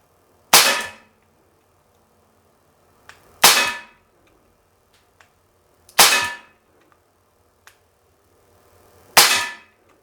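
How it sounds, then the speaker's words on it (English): A KWC M1911 non-blowback CO2 pellet pistol fires four sharp, loud shots spaced roughly three seconds apart, each a crisp crack with a quick decay, with faint small clicks in between. "That should be 12 shots."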